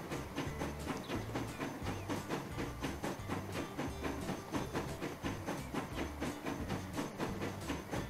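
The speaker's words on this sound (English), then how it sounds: "Man, that is a long train." A long train with coaches runs along track in the video game Transport Fever, a steady rhythmic clatter of wheels over rail joints repeating continuously, faint and alone.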